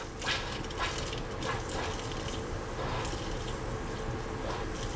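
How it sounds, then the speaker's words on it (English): Pink antifreeze runs through the hot water lines of an RV being winterized, a steady, fairly quiet gush of liquid through the plumbing with faint sputters from trapped air. "Now it's running all the water through the the hot water lines. It's running all the antifreeze to the hot water lines."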